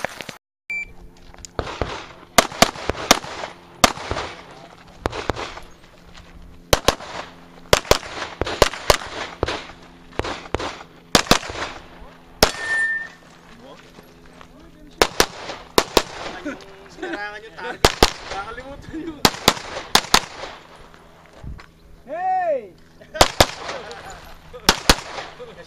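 Gunshots at a USPSA practical shooting match ring out as sharp, loud single cracks in irregular bursts, some in quick strings, with occasional beeps and people talking between them.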